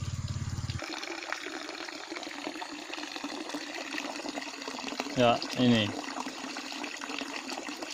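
Well water rushes steadily from the short tap of a hydraulic ram pump in a village setting, a continuous splashing flow heard close. Someone speaks briefly over it.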